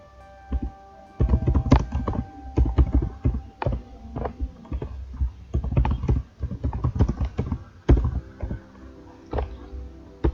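Keys clatter on a computer keyboard during data entry in Tally ERP9, with irregular bursts of clicks and a few heavier Enter presses, close and clear against a quiet room.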